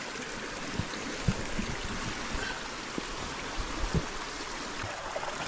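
Hot spring water flows and trickles steadily nearby into a filling pool, a continuous gurgling rush with a few soft knocks and splashes.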